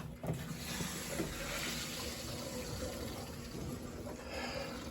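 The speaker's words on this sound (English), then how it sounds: "how it looks when the water rushes in" Water rushes into a house's pipes in a basement after the whole-house supply is turned back on, a steady broadband hiss and gush with faint knocks near the start, continuous and fairly loud.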